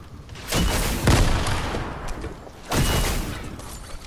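Video game gunfire crackling in two dense bursts, one around the first second and another near the end, full and fairly loud with a steady low rumble between them.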